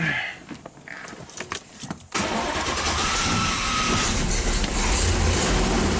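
A classic Corvette's engine cranks and catches on a jump pack after a couple of seconds of quiet clicks and handling noise, then settles into a loud, steady idle that continues to the end.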